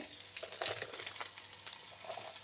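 Garam masala whole spices, cinnamon and cloves among them, sizzle and crackle steadily in hot oil in a home kitchen, with a few sharper pops and spoon stirs over the continuous close fry.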